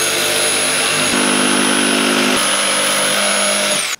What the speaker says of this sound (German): Gut, Stichsäge und ran da.